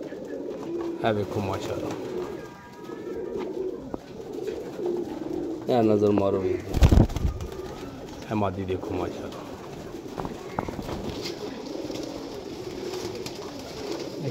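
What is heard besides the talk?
pigeons cooing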